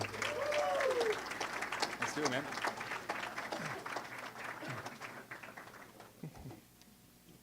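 Applause from the crowd at a live esports awards show greets the evening's MC, starting loud and thinning out over several seconds while someone speaks briefly over it.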